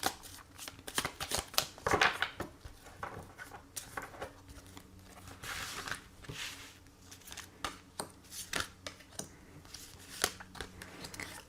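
Tarot cards being shuffled close up, quick riffles and soft slaps of card stock coming in dense, uneven bursts, with no talking.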